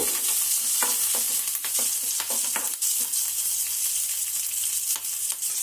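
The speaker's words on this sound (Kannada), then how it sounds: "ಸಾಸಿವೆನ ಹಾಕಿಕೊಳ್ಬೇಕು ಅದಕ್ಕೆ ಕಬ್ಬಲ್ ಸೊಪ್ಪು ಹಸಿಮೆಣಸಿಕಾಯಿ ಹಾಕ್ಕೊಳ್ಬೇಕು ಸ್ವಲ್ಪ ಫ್ರೈ ಮಾಡಿಕೊಳ್ಳಬೇಕು" Mustard seeds, curry leaves and green chillies fry in hot oil with a constant loud sizzle, dotted with crackling pops and the scrape of stirring.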